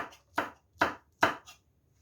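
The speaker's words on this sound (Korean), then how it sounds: "청홍고추는 어슷어슷 썰어주세요" A knife slices green and red chili peppers diagonally on a board, making about four crisp, evenly spaced chops at close range.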